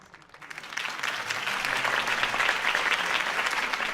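Crowd applause at a campaign rally in the Batman Telltale Series video game, clapping swelling from quiet to a full, steady roar of many hands.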